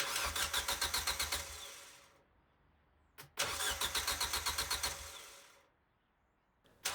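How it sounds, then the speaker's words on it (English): An Audi A4 B6 starter motor, jumped with 12 volts to the solenoid, cranks and engages the flywheel in two close bursts of rapid, pulsing churning, each about two seconds long and separated by a pause, with no engine catching. "it occurred to me to test the starter motor and its engagement on the flywheel directly"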